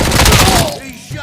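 Gunfire in the video game RoboCop: Rogue City, a dense burst of loud shots in the first half under shouted voices, fading into quieter game sounds with a short clank near the end.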